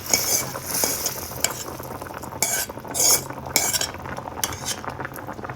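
A spoon clinks and scrapes against a pot in quick irregular strokes as tempering is stirred into simmering brinjal sambar over a soft background sizzle, close and fairly loud.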